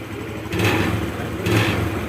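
A 2021 Honda Beat Deluxe motor scooter engine idles, then revs up twice in quick succession, each throttle blip rising loudly over the steady running note and falling back, close by with no talk.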